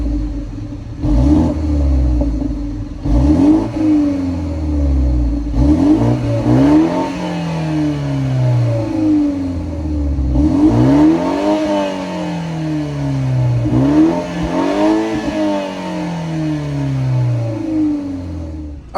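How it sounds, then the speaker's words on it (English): A 2022 BMW 430i xDrive with a 2-liter turbocharged four-cylinder engine revs repeatedly, with five or six rising blips that peak and fall back to a steady idle rumble, close and loud. "that was of course the sound of the 2-liter turbo 4-cylinder sold by BMW for this 430i"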